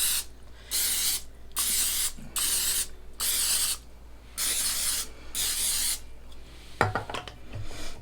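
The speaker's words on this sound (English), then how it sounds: "First thing, as always, is spraying the cups. Make sure there's a good coating." Quick bursts of aerosol cooking spray hiss as muffin cups are coated, in a series of short, even blasts with brief pauses, ending with a few light clinks.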